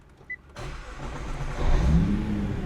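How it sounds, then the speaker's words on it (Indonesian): A 2022 Nissan GT-R Nismo with a 600 horsepower engine fires up: a brief starter click, then the engine catches with a loud rumble that swells into a deep, steady idle close by. "Wah, jadi ketika nyala itu mobil ini ada sedikit getaran, dan akhirnya monster 600 horsepower ini bisa nyala dengan sempurna."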